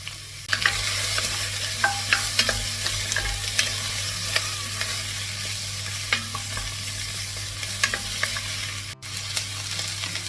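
Chopped vegetables and garlic frying in a pan for slow-cooked beef cheeks in red wine, a constant close sizzle broken by regular spoon stirs and light clinks against the pan.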